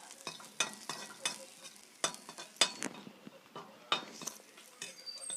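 Lentils and crushed unpeeled garlic frying in oil in a pan for a quick lunch-box dish, a soft steady crackle broken by repeated spoon scrapes and light clinks against the metal, close and fairly quiet.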